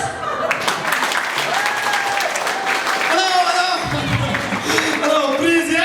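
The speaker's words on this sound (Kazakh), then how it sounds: "Шапалақ қошеметпен" Audience applause during a Kazakh comedy and dance show, steady clapping from a crowd mixed with music and a voice talking over it throughout.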